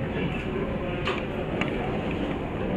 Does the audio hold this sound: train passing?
yes